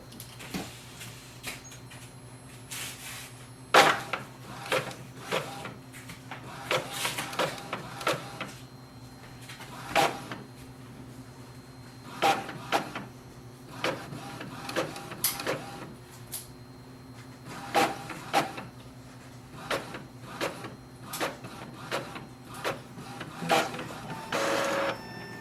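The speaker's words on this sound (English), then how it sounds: "you will see it is just printing the blank pages" An Epson XP-4200 inkjet printer, faulty and printing blank pages, whirs and clicks steadily as its print head shuttles back and forth, with a low mechanical hum underneath, fairly quiet and close.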